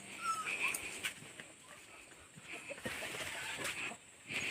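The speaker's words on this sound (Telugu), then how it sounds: "కుక్కలను కూడా పెంచుతున్నారు" Dogs kept by a tribal family in a remote forest homestead whimper and yip faintly at a distance, thin high whines recurring through steady outdoor background noise.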